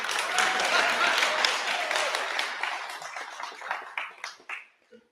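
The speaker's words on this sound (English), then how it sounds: "It's like a golf clap." Scattered applause from a live audience at a Mastermind event in Orlando, Florida, loud at first and thinning out into a few lingering claps that fade to silence by the end.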